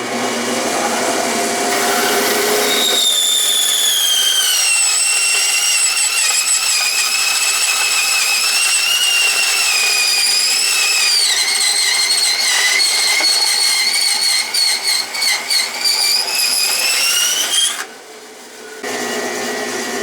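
A Delta saw converted to metal cutting and driven by a DC motor saws through 1 1/8 inch thick aluminum, giving a loud, sustained high-pitched whine with wavering tones close by that cuts off briefly near the end.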